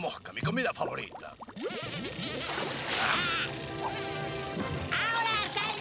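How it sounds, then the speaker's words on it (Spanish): Buzzing fly in an animated Woody Woodpecker fishing cartoon, a whining drone that wavers in pitch under an animated character's speech and light cartoon music. "Una mosca, mi comida favorita."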